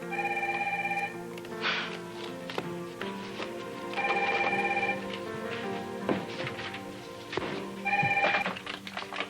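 A telephone rings in three evenly spaced bursts of bright electronic trilling, moderately near, with a busy indoor background of thumps and muffled activity between rings.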